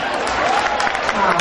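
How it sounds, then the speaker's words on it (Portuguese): Audience at a club show claps in a sustained burst of applause, a dense close crowd patter with no pauses. "Obrigado, aplausos."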